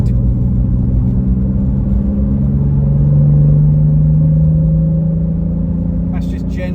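A manual Toyota Supra MK4 exhaust gives a loud, steady low drone under gentle acceleration, pitch slowly rising and then easing, heard from inside the car.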